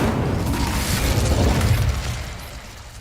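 An Incendio fire spell cast in the video game Hogwarts Legacy bursts out as a loud whooshing, rumbling blast that swells and then fades over a few seconds.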